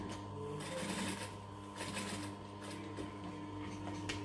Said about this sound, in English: I'm going to do a couple of stitches forward and then back.